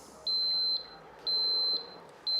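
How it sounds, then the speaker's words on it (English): An OLAS Guardian boat safety tag beeps after being switched on, giving a steady series of long, clear, high-pitched electronic tones at even intervals, close by and alone. "If your tag's not already connected, you'll hear it beeping and you'll see it flashing on the switch here."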